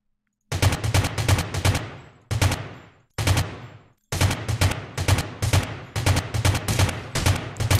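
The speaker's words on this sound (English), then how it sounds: "now I'm being shot from that guy with the AWM" Sniper rifle fire from an AWM in the video game Rules of Survival, a rapid string of loud, sharp shots in several bursts separated by short silent gaps, each crack trailing a brief decay.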